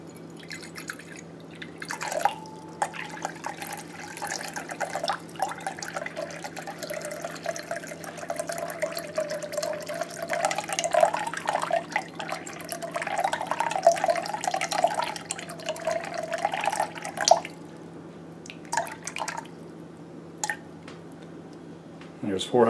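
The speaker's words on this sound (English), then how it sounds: "so I'll add water till it reaches" Water is poured into a container on a scale while mixing liposomal vitamin C, a steady trickling and splashing stream that swells and fades, with a person talking over it and a constant low hum beneath.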